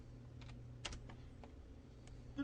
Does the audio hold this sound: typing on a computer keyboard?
yes